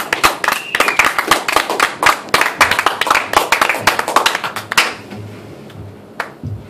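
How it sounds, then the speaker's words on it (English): Audience applause at the Kick Butt Coffee open mic, sharp close claps ringing steadily for about five seconds, then thinning to a few stray claps in a quiet room. "Adam here with a big round of applause,"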